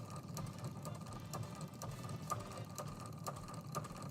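A sewing machine stitches slowly around lettering on a T-shirt table runner, giving a steady, even mechanical whir with regular faint needle ticks, close and alone.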